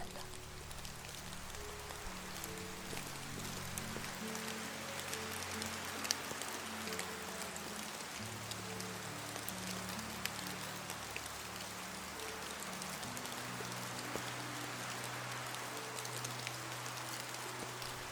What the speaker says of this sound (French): Le vent et la pluie se sont unis pour mettre en scène la nature amicale.